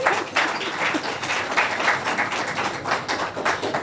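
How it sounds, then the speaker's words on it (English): An audience at an annual festival dance concert applauds, steady moderate clapping from a crowd that carries on throughout without any talking. "I just want a round of applause because it's the"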